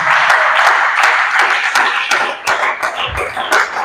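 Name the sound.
congregation applauding in church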